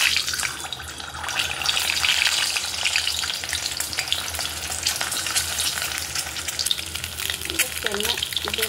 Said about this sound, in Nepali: अब म अन्डा हाल्छु।